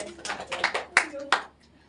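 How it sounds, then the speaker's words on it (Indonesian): Class giving a brief round of applause, a few loud claps in quick succession that fade out after about a second and a half, with voices mixed in. "Beri tepuk tangan ya"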